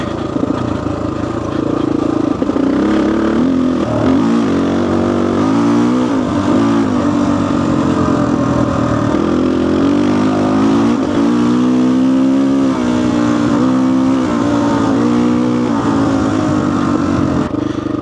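A vintage dirt bike engine revs steadily on a trail ride in the Caucasus, close and loud, its pitch rising and falling through repeated throttle sweeps for the whole stretch, with no talking.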